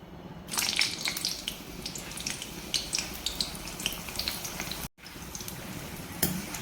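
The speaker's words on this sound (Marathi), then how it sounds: "आता थोड्याशा मिरच्या देखील तळून घेऊ" Slit green chillies fry in hot oil for street-style moong dal bhaji, a continuous soft crackle with scattered pops and a short break near the end.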